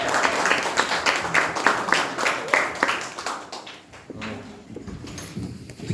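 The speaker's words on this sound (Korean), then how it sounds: "박수 한번 주십시오." Audience clapping at a Korean literary talk, a steady crackle of many hands that fades and thins toward the end, with a few scattered claps and murmurs left.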